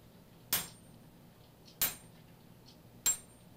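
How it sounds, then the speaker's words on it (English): Three sharp metallic strikes from a 6-pound sledgehammer hitting a hot cut while forging a throwing axe, spaced about a second and a quarter apart, each ringing briefly before fading into a quiet background. "I think that's a 6-pound sledgehammer I'm using there"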